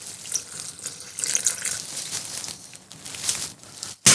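Milk pours into a blender jar for a smoothie, a steady liquid splashing and trickling that fluctuates for about four seconds, ending with a brief louder clunk.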